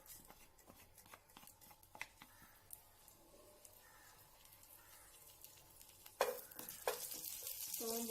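Quiet, steady frying of butter and fennel seeds in a pan with scattered scraping and stirring, which grows louder and more sizzling near the end.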